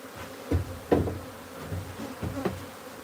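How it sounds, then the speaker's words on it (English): Bees buzz around a wild beehive being moved into a new home, a close, uneven hum with a few louder swells as individual bees pass near. "Hope you like the sound of those bees"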